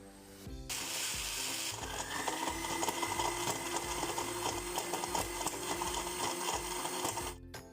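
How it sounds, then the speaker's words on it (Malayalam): A kitchen blender runs on lemons and cold water for lime juice, a loud steady whirring grind that starts abruptly and holds for about seven seconds before cutting off. "ഇനി അടച്ച് വെച്ചിട്ട് നമുക്കിത് നന്നായിട്ടൊന്ന് ബ്ലെൻഡ് ചെയ്തെടുക്കണം."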